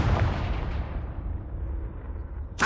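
A Confringo blasting spell explodes in Hogwarts Legacy, a loud booming burst that rolls off into a long rumbling decay, with a sharp crackle at the very end.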